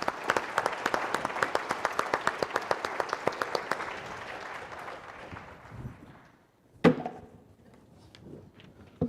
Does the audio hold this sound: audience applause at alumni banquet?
yes